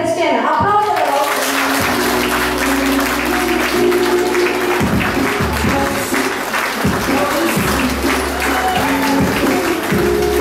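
Loud applause from an audience at a university graduation ceremony as a faculty dean is invited onto the stage, continuous clapping mixed with a steady music or hum bed throughout.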